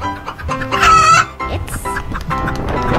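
A chicken lets out a loud, close, drawn-out crow near the start, followed by a run of choppy clucks and scuffling noises.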